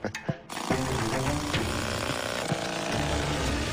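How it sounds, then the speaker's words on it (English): A rock drill bores four-foot blast holes into hard rock at a prospecting dig, a loud, steady rattling hammer that runs without break after a few short knocks at the start. "They must first drill 4-foot deep holes in the hard rock to make room for the explosive powder."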